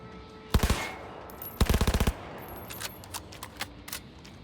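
Two quick bursts of submachine-gun fire in Cyberpunk 2077, each a tight rapid string of shots, followed by a few scattered softer single reports and lighter clatter.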